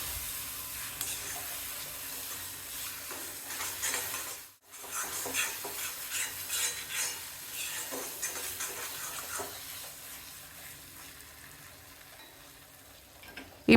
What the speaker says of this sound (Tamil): எல்லாத்தையும் சேர்த்துட்டு 2-3 நிமிஷம் வரைக்கும் கைவிடாமல் கிளறி வதக்கணும்.